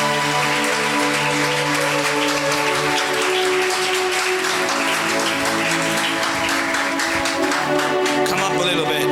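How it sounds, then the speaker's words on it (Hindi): A congregation claps and applauds at a revival leadership conference in Peshawar, Pakistan, a dense, steady wash of hands lasting throughout, with a tonal music-like hum underneath and voices mixed in. "Let's clap for the word of God."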